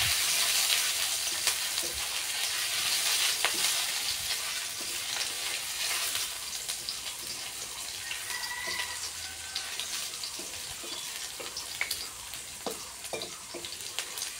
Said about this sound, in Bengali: এখন আমি এর মধ্যে দিয়ে দিচ্ছি কাঁচা লঙ্কা আর থেতো করা আদা। ভেজে নেব একটু আদাগুলো আর লঙ্কাটা।